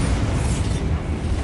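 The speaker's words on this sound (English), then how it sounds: "Bombarda!" A Bombarda spell explosion in a Harry Potter video game: a dense, continuous roaring blast of rumble and crackle that fills the whole moment at steady loudness, with no voices.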